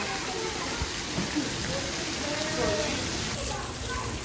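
Heavy rain pours down in Multan during a storm, a loud, dense, continuous wash of water on surfaces that fills the whole stretch, with voices nearby partly mixed into the roar.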